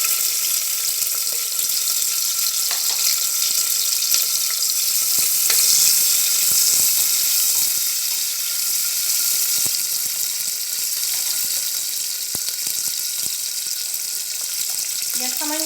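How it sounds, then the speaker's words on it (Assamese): Chopped onions frying in refined oil in a pressure cooker on a gas stove, a loud continuous close sizzle with occasional clinks of stirring. "এতিয়া পিয়াজখিনি আমি ৰঙচুৱাকৈ ভাজি লম"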